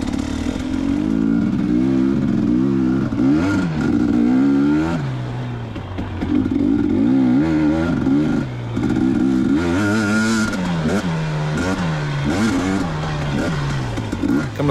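Off-highway vehicle ridden along a leaf-covered forest trail at Johns Peak OHV area, its engine loud and close throughout, rising and falling with repeated revs and throttle changes, with some clatter.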